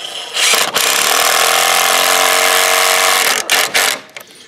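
Power screwdriver driving screws to fix hinges and latches onto a wooden DIY chicken tractor, one steady loud whirring run of about three seconds that stops abruptly, then a couple of short bursts.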